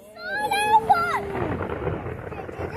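Thunder crackles and rumbles during a lightning storm, a close, loud roll that fades out over a couple of seconds, with a high whistling or squealing sound over its start.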